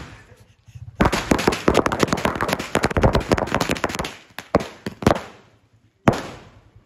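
Diwali firecrackers bursting outdoors in Pudukkottai, a dense crackling barrage of sharp bangs for several seconds, then a few scattered pops and one last loud crack, with people's voices faintly around.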